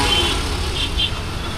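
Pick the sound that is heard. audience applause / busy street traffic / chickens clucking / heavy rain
busy street traffic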